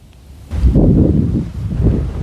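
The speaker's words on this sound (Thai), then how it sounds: "ยิ่งสายยิ่งลมแรงครับ" Strong morning wind sweeps across an open field, buffeting the microphone with a loud, low, gusting rumble that rises suddenly and continues with no one talking.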